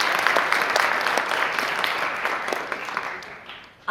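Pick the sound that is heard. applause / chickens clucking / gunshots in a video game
applause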